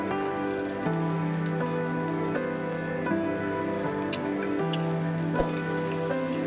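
Onion, garlic and green chilies fry in hot oil in a pan just used for prawns, giving a dense, even crackling sizzle that carries on throughout with an occasional louder pop.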